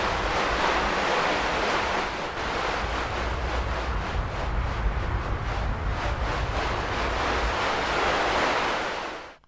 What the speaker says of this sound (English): incredibly easy to make very realistic, like wind type sounds